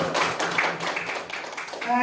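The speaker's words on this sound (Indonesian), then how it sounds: "Mari Bapak Ibu kita berikan tepuk tangan yang gemuruh" A room of people clapping together, a dense patter of applause with a voice speaking over it.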